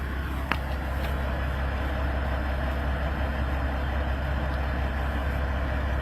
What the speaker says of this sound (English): I'm sitting here listening to this fucking truck right here. Idling. Big old motor.